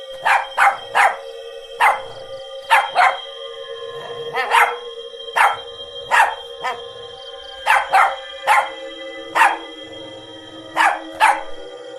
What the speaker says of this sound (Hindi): जोर जोर से भौंककर अपने साथियों को पुकारने लगता है।